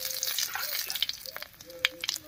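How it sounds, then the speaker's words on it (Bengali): Whole cumin, dried chili and chopped onion crackle and sizzle in hot oil left over from frying papaya, a steady close spitting hiss with sharp pops and brief stirring scrapes, no voices. "পেঁপে ভাজার এই তেলের মধ্যেই ফোড়ন দেবো, আর ফোড়ন দেবো গোটা জিরা, শুকনো লঙ্কা আর পেঁয়াজ কুচি দিয়ে।"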